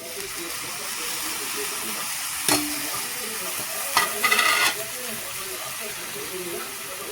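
Moth beans (matki) sautéed in a pan with goda masala, giving a steady low sizzle and scrape of stirring, with a couple of brief sharper clatters of the spatula midway.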